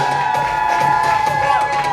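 A loud crowd at a ball runway event cheers and screams continuously, dense and sustained, with high whoops and shrieks cutting through the roar.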